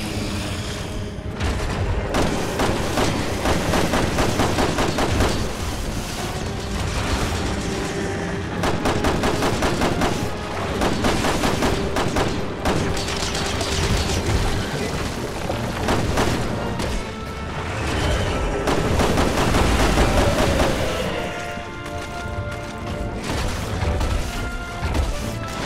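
Sustained, loud gunfire in the zombie shooter Resident Evil 6 during co-op play, rapid shots and bursts with booming impacts continuing almost without pause.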